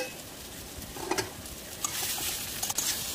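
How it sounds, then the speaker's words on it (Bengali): Fried potatoes and green banana are stirred with spices in a sizzling pan, a spoon scraping and clinking now and then over a steady frying hiss. "সব কিছু একসঙ্গে ভালো করে নেড়ে চেড়ে নিচ্ছি"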